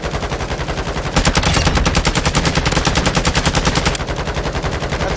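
Rapid automatic gunfire in Call of Duty MW2 DMZ, a loud sustained burst of evenly spaced shots that briefly pauses and resumes, dense and close with no voices over it.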